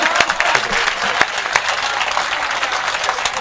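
Audience at a Hindi kavi sammelan poetry recital breaking into applause, a dense, even stretch of many hands clapping that stays loud for the full few seconds.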